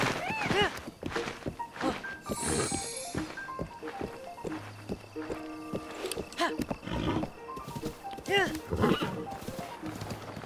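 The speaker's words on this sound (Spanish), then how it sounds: "es verdad que el caballo iba solo por los caminos." A horse in the Zelda Breath of the Wild video game neighs and its hooves clop along a path, with game music and other effects around it and someone talking over the action at times.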